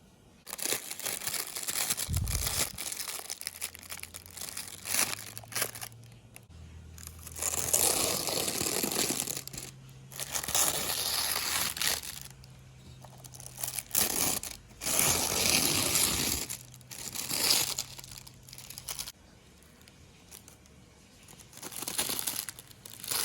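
Paper being crumpled and torn while a 1/18 scale Lexus LC500H model car is unwrapped, heard as close, loud crinkling bursts broken by short pauses, with a few soft low thumps from handling.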